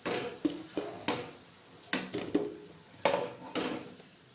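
Fried lentil fritters for rosh bora are lifted out of a pan, giving a run of sharp metallic scrapes and clinks of a utensil against the pan at irregular intervals, close and fairly quiet.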